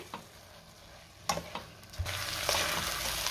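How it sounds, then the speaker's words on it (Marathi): Dal and rice sautéed and stirred in a pan for a quick home-style recipe, giving a soft background sizzle with a few sharp scraping clinks of the spoon against the pan, growing slightly busier toward the end. "आपल्याला 2 मिनिटं डाळ आणि तांदूळ चांगलं परतून घ्यायचं आहे"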